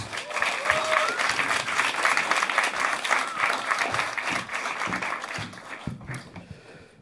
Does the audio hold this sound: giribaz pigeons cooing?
no